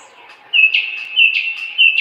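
White-eared bulbul singing: three short, bright chirping phrases in quick succession, close and clear against a quiet background.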